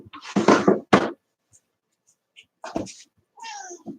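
A cat meows a few times with gaps of silence between, close and clear, along with a soft knock.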